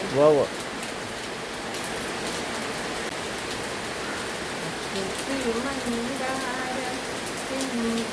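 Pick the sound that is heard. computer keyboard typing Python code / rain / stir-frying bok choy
rain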